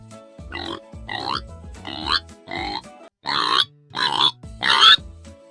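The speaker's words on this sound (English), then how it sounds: "Pig." A pig grunts in a series of about seven rough, snorting bursts, evenly spaced and fairly close, the last few louder than the first.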